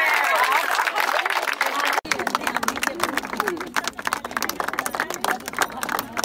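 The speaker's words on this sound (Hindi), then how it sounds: "ma'am ma'am please best running between the wicket जोरदार तालियां इनके लिए हो जाए" An audience at a women's cricket match applauds the players' running between the wickets: a dense burst of clapping and crowd noise that starts abruptly and carries on under a voice talking over a loudspeaker.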